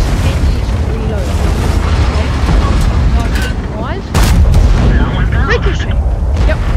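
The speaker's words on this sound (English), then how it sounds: "Ricochet!" Tank shell ricocheting off armour in World of Tanks, a sharp metallic impact burst standing out around the middle amid dense, continuous battle rumble and gunfire, with a voice talking over it.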